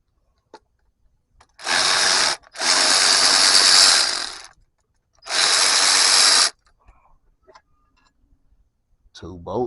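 Electric ratchet spinning bolts out of a 6.0 LS engine in a truck: three loud, close bursts of buzzing whir, the second longest, separated by brief silences.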